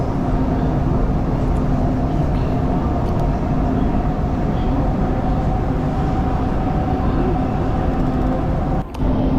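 A Dubai Metro train runs with a steady, loud rumble and a faint hum from inside the carriage. The noise is continuous and even, and there is no talk.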